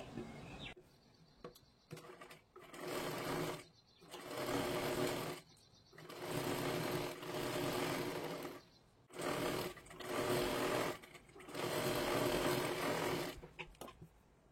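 A sewing machine stitches blouse sleeves up close, running in loud whirring bursts of a few seconds each, separated by short pauses and quiet handling noises.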